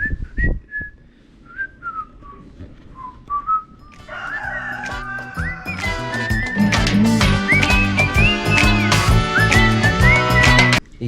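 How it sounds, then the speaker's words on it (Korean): A person whistles a melody alone at first, with short pitched phrases, then music or other sounds build up underneath as the whistling continues over it. "이런 뷰에서는 휘파람이 절로 나요."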